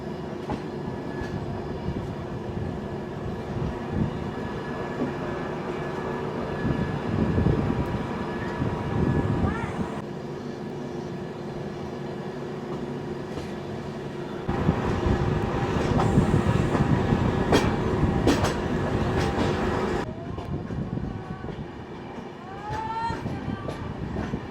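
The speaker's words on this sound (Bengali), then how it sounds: "ট্রেন কিন্তু এখন প্রচণ্ড ধীর গতিতে যাচ্ছে, কারণ ট্রেন হাইট উঠছে, পুরো রাউন্ড মারতে মারতে পাহাড়ের উপরে উঠবে, তার জন্যই কিন্তু এরকম ডবল ইঞ্জিন লাগানো" A double-engine passenger train grinds slowly uphill on a looping climb through hills near Dudhsagar, a steady rumbling drone from inside the train with surges in loudness and a short squeal near the end.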